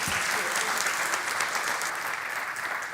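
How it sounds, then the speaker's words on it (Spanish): An audience at a talk on risk management applauds a speaker, with dense, even clapping held steadily for a few seconds before easing off slightly. "Un aplauso."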